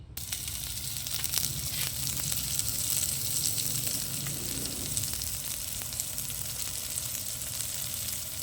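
Garlic and onion sauté in a hot pan for a stir-fried bitter gourd dish with egg, giving a steady, close hiss and sizzle that runs unbroken and alone.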